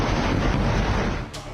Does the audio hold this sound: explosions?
yes